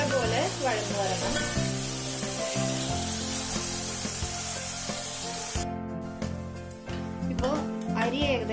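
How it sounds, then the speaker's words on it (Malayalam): Onions sauté with salt in a pan, a soft, steady sizzle and hiss under prominent background music, with some stirring scrapes. "ഈ സവാള നല്ലപോലെ വഴന്നു വരണം."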